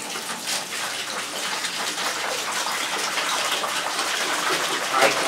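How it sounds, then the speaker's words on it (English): Water pours steadily into a fermenting bucket for winemaking, a continuous splashing gush that stays close and loud, with a brief slosh near the end. "we want to put some water in the fermenting bucket"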